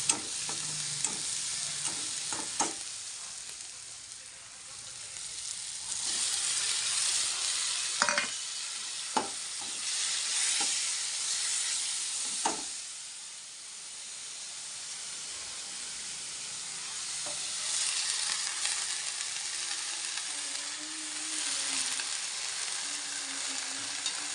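Food fries in a pan with a soft, steady sizzle and hiss at low volume, broken by a few scattered clicks and scrapes of stirring, and no speech.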